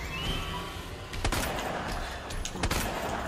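Loud gunshots from a Magnum revolver in Resident Evil 2 remake during a boss fight, two sharp blasts about 1.4 seconds apart over a busy, noisy game backdrop.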